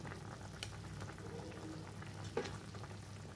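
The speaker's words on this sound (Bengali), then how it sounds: "ঝোলটা খুব ভালো মতো ফুটে গেছে দেখুন" Fish curry with potato and eggplant bubbling in a pot, a soft continuous simmering crackle and sizzle with scattered small pops, fairly quiet and close, with no talking.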